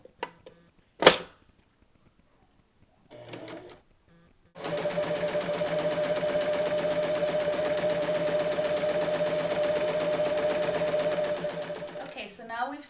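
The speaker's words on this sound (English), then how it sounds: "we've sewn both sides all the way down the length" A sewing machine stitches the long side seams of a maxi skirt, running steadily and loudly for about eight seconds after a few brief handling clicks and a short burst.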